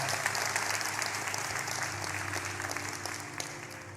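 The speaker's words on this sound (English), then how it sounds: "Let's clap for that." An audience claps steadily for about four seconds at a moderate distance, with a low steady hum running underneath and no voices cutting through.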